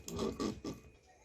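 A sewing machine stitching pieces of leftover cotton fabric gives three short, close mechanical bursts of whirring and clattering in quick succession, then falls quiet.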